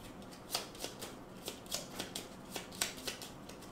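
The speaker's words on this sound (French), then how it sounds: "Je remélange mon deck." Cards riffled and shuffled by hand during a tabletop session of the board game Gloomhaven, a run of crisp papery bursts repeating about twice a second, close and fairly quiet, with no voices.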